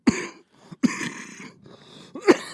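A man coughs and clears his throat in three rough, close bursts separated by short pauses and breaths, loud and harsh with no words spoken.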